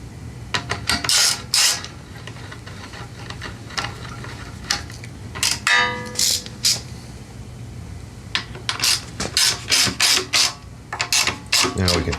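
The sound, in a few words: ratchet tightening bolts on a Subaru engine carburetor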